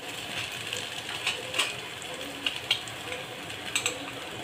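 Ground masala paste sautéing in a pan for Marathi-style chicken curry gives a steady, close sizzle and crackle, with sharp clicks and scrapes of a spatula stirring against the pan's metal at intervals.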